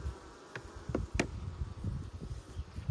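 Active, slightly aggressive honey bees buzzing around an open hive colony during requeening, a faint continuous drone with individual bees passing close now and then.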